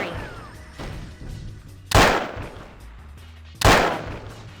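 Two loud gunshots from a gun in the video game Jurassic Park Trespasser, each a sharp boom with a short decaying tail, spaced a couple of seconds apart over quiet background.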